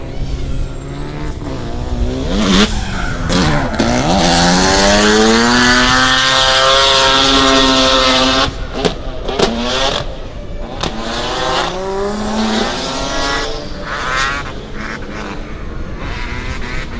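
Drift car at Meremere Drift Park during MSC Challenge NZ qualifying, engine revving hard with rising and falling pitch sweeps and tire squeal, loud and close over about seventeen seconds.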